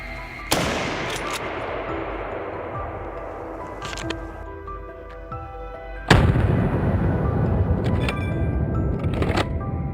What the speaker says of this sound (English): he didn't hesitate and immediately opened fire